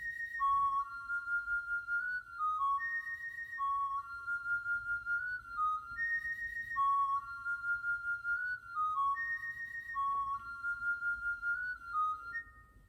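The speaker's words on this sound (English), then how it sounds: "this is the ocarina preset, and then for effects on that, some RC20, a little bit of wobble, some air distortion" A synthesized ocarina preset plays a simple bouncy looping melody of short whistle-like notes, washed in reverb with light wobble and distortion and panning left to right; quiet and steady with no talking.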